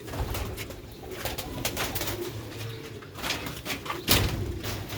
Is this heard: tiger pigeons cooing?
yes